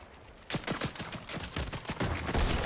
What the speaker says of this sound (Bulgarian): Той стреля по нас просто.